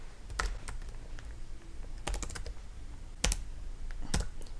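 Someone types on a computer keyboard in short irregular bursts of key clicks against a quiet hiss, with pauses between the clusters and no talk.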